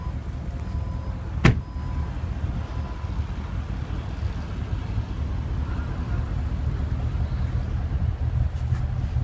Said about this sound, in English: Now let's pop the trunk and see how much cargo space the trunk offers.